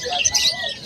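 Birds at the Bocaue pet market chirp and tweet in quick, bright bursts, several calls overlapping in under a second, fairly close and clear with faint crowd murmur beneath.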